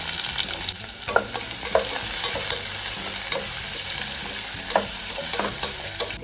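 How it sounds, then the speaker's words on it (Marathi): Finely chopped onion and garlic fry with mustard seeds in hot oil in a pan, giving a steady, loud, close sizzle broken by occasional stirring clicks. "टाकूया लसूण, आता टाकूया बारीक चिरलेला कांदा."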